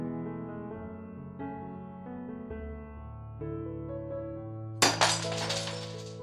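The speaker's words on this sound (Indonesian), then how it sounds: "Kaca mobil tepat di sebelah Devon dipukul keras" A car window smashed by a hard blow, one sudden loud crash of breaking glass with a brief tinkle of shards, cutting in over sustained dramatic music.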